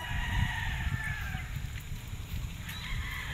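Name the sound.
rooster crowing at game fowl farm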